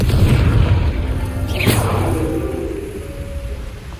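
Confringo blasting spell in Hogwarts Legacy sets off a loud booming explosion with a sweeping whoosh in the middle, then a rumbling tail that slowly fades.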